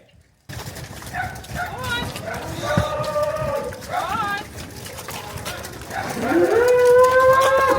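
Bulls in a shed bellow repeatedly, several deep drawn-out moos rising and overlapping at moderate distance, with a dog barking briefly and voices talking in the background.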